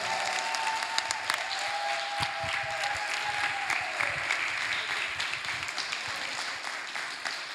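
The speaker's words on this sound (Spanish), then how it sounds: "Un fuerte aplauso a Dios." A church congregation applauds in a sustained, even wash of many hands clapping, moderately distant and filling the room, with a faint voice or tone briefly audible underneath.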